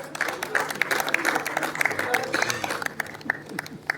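An audience at an annual award and cultural program claps to welcome guests to the stage, scattered moderate applause with crowd murmur and some voices underneath.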